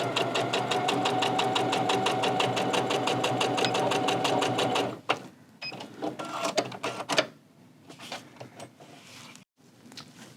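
A Husqvarna Viking Onyx 30 sewing machine runs fast, steady stitching with a 1/4-inch foot for about five seconds, then stops and starts in short, irregular bursts of back stitching.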